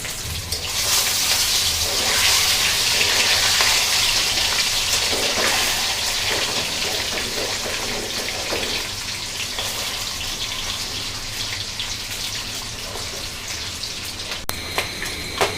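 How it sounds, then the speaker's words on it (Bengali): Eggs frying in oil in a pan over a lowered flame give a steady, dense sizzle that stays loud and even throughout, with a few faint clinks near the end. "চুলার আঁচটা একটু কমিয়ে দেব, যাতে করে ডিমগুলো সুন্দরভাবে একটু লাল লাল করে ভেজে নেব।"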